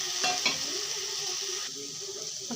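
A radish vegetable curry with ground garam masala paste is stirred in a hot pan, a steady close sizzle with a few scraping spoon strokes early on, the frying hiss dropping slightly partway through.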